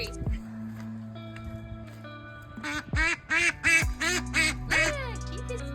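A duckling gives a quick run of loud, close quacks, about seven in a row, while a person talks softly nearby before the calls start.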